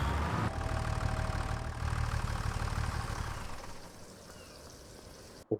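A tractor in the Farming Simulator 2025 video game idles with a steady low engine rumble for about four seconds, then drops to a quieter hum before a brief thump at the end.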